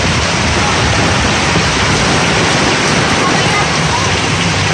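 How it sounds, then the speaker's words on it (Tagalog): Heavy rain pours steadily and loudly, a dense unbroken hiss that holds the same level from start to end. "Napakalakas ng ulan."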